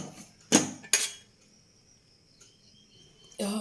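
Lid and utensils clink against a pot of upma in two sharp metallic knocks, then a quiet pause before another scraping clatter, with no voices.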